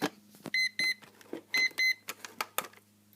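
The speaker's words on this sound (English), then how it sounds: "oh, there goes my alarm." An electronic alarm beeps in repeated short pairs of bursts, fairly loud, with a low steady hum and a few clicks in between.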